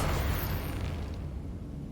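A Confringo blasting spell explodes in the Hogwarts Legacy video game, a loud, dense burst that fills the clip and slowly thins into a rumbling tail.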